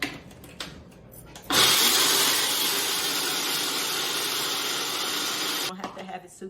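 A Ninja blender milling grain into flour starts abruptly with a loud, dense, steady whirring roar, runs continuously for about four seconds, then cuts off sharply, with quieter handling noise before and after.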